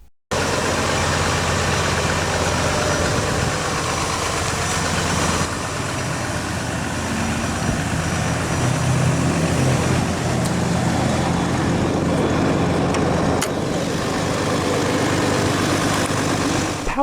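2021 Ram 2500 Big Horn crew cab 4x4 with a Cummins ISB 6.7-liter turbodiesel inline-six idling, a steady loud diesel rumble with clattery texture, continuous and close.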